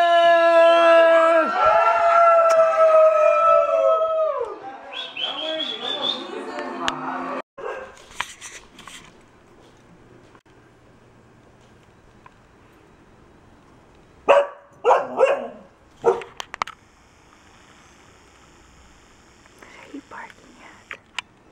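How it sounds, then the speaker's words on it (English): A dog barks and yips amid excited voices and background noise at a New Year's celebration, then a few sharp barks at a small bug ring out later over quieter surroundings. "She's barking at a little bug."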